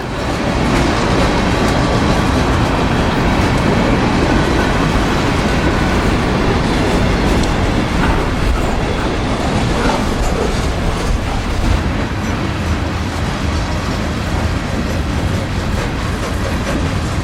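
A freight train on the Florida Central roars past close by at speed, a loud continuous rumble with rhythmic clatter of wheels over rail joints throughout.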